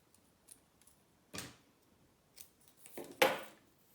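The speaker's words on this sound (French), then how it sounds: "je coupe ma bande en deux" Scissors snip a paper quilling strip in two for a jewelry box craft, giving a few faint, close, crisp cuts in an otherwise quiet room.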